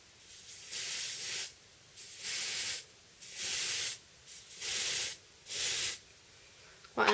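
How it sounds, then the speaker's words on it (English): Quick-dry nail varnish spray misted over painted nails from about 10 cm away in five short hissing bursts, each about a second long and separated by brief pauses, fairly close and alone. "You go from about 10 centimetres away and you just spray"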